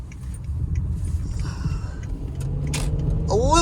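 A 2006 Range Rover L322 on the move, its low cabin road rumble and engine drone steady and building slightly, with light rattles and a voice speaking briefly near the end.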